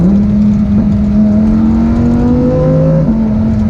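Lamborghini Huracan Evo V10 engine running from inside the cabin, a loud steady drone whose pitch climbs gradually as the revs rise, then dips briefly and settles again.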